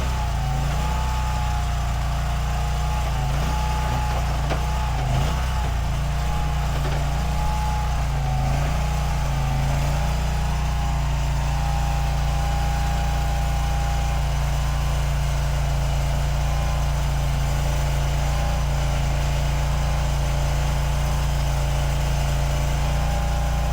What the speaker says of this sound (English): Drills the hole, pounds it in.